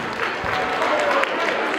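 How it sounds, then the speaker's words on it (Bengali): Audience applause at a school cultural celebration, a dense steady patter of many hands clapping at moderate distance with a voice briefly over it. "তো দুজনের জন্য জোরে হাততালি"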